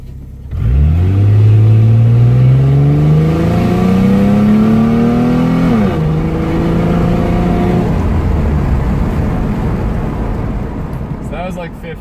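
A 2003 Ford Mustang accelerates hard from a standstill toward 60 mph, its engine note climbing steadily through a long first gear, dipping at a shift near six seconds, then pulling on with a loud, close, sustained drone.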